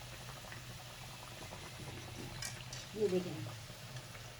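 Sweet tikiyan fry in hot ghee, a soft steady bubbling sizzle with a brief louder burst midway, while someone speaks briefly.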